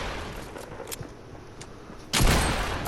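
Gunfire in the video game Fortnite, a rapid, dense burst of shots under a continuous layer of game noise, ending in one loud, close blast with no talking.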